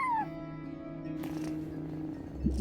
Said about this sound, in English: a cat watching over the front desk